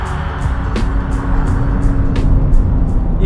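A Porsche 996 GT3 RS engine pulls hard from low revs, a loud, close, steady roar with a rising rasp and brief sharp clicks over the engine note.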